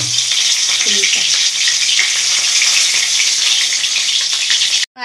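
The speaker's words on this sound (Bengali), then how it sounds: "মাছ ভাজার তেলেই সাদা জিরে কালো জিরে একসাথে ফোড়ন দিয়ে দিলাম" White and black cumin seeds crackle in hot leftover fish-frying oil, a loud, dense, steady sizzle that runs unbroken and then cuts off abruptly near the end.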